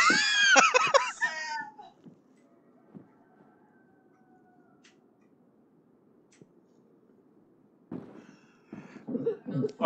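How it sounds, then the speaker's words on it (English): A character coughs in DayZ, a short burst of harsh coughs at the start before quiet game ambience, then muffled voices and game noise return near the end. "Oh no, I'm coughing now"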